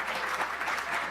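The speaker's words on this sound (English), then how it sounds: "How about a round of applause for the new year?" Applause at a county Chamber of Commerce legislative kickoff on the new year, a dense wash of many hands clapping together, steady and moderately loud with no voices over it.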